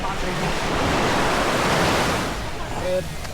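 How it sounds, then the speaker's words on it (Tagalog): Ocean waves at a Pangasinan beach rush and wash in a loud, steady surge with wind noise on the microphone, swelling and then easing slightly. "Sarap ng alon."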